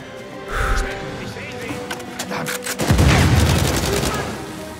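Rapid gunfire and heavy explosive booms from a grenade launcher fill a loud, chaotic firefight in Uncharted 4 on PS4, with dense bursts building to a big blast near the end while someone talks over the action.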